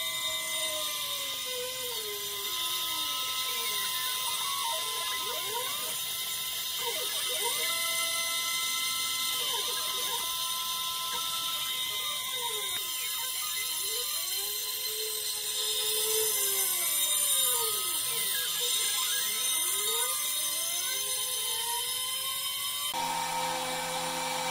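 A small CNC router milling with a 1.5mm bit, a steady high whine that rises and falls in pitch as the spindle sweeps through the cut, continuous and close.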